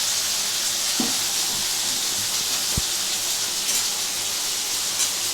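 Shrimp and okra frying with gram flour in a pan, a loud, continuous close sizzle and hiss with one brief knock of a utensil partway through.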